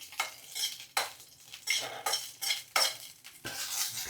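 Peanuts dry-roasting in a hot pan, stirred with repeated close, crisp scraping and rattling strokes at a steady rhythm of roughly one stroke per second, with no voices.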